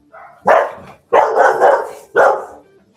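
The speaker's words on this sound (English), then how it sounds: "I just heard a dog in the hallway." A dog barks in a hallway, three loud, close barks in quick succession with short gaps between them, no talking.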